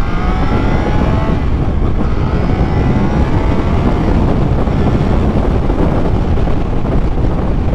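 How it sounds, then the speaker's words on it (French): Triumph Trident 660 motorcycle with an 81 hp engine accelerating on the road, a loud continuous engine roar with rising pitch under heavy wind rush, no talk. "Ah, elle est énervée, hein, la Trident là."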